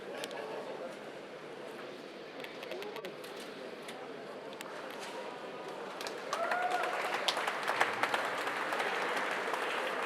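A crowd applauds a politician at a gathering, a soft, distant rustle of many clapping hands mixed with murmuring voices, growing somewhat louder and busier in the last few seconds.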